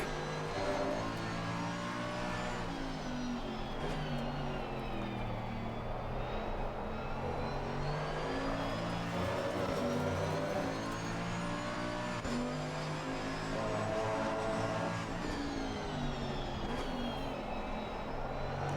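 A Mercedes-AMG GT2 race car engine drones steadily at Paul Ricard in Assetto Corsa Competizione, its revs rising and falling continuously through corners with a sustained, loud, buzzy tone throughout.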